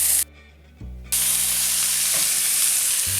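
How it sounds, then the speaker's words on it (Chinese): Marinated chicken wings go into a pan with a thin film of hot peanut oil, setting off a loud, steady sizzle and hiss after a brief quieter moment, with no voices over it. "将腌制好的鸡翅放入锅中，"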